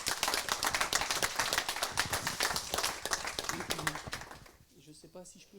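An audience applauds the competing teams at an architecture prize ceremony for the 2021-2022 awards, a dense burst of clapping that fades after about four seconds as a voice begins speaking.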